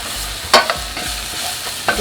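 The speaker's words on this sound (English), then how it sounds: "Add the minced garlic, saute it a little bit so you can open up those flavors." Minced garlic sautéing in olive oil, a soft steady sizzle broken by a few sharp scraping stirs of a utensil against the pan, close and brief.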